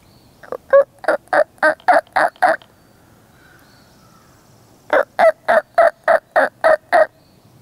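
A voice imitates a turkey hen call with inhaled, mouth-shaped yelps, delivered in two close, evenly spaced runs of about seven or eight sharp clucks separated by a few seconds of quiet.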